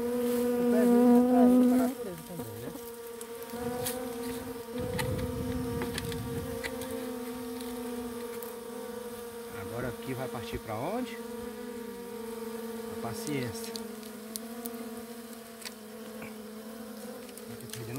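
Honeybees swarm in a dense, continuous buzz during a honey harvest where straw smoke is being used, with individual bees whining past close by as people talk briefly over the hum.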